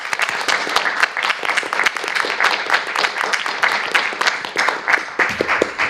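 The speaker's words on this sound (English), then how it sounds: "please join me in a round of applause for Angelica Davis." Audience applause at a school board of education meeting, a steady round of clapping from a seated crowd that carries on evenly for several seconds.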